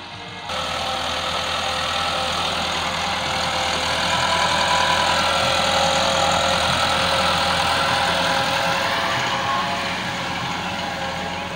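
A 2018 Massey Ferguson 375 tractor engine idles steadily and close by, a continuous low rumble with a faint knocking texture that holds at an even level for the whole stretch, with no talking.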